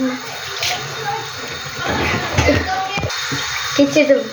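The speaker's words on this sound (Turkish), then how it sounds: "Yüzümü yıkayacağım direkt" A bathroom tap runs while someone washes their face, a low steady flow with splashing bursts and hand-scooping sounds growing busier toward the end, with a voice speaking briefly.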